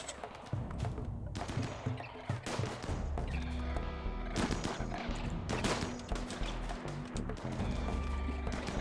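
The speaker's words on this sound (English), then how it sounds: "Now shotguns are being fired." Shotguns firing in the RimWorld video game, with repeated sharp bursts of blasts and rattling volleys at moderate distance, dense and irregular over a steady rumble.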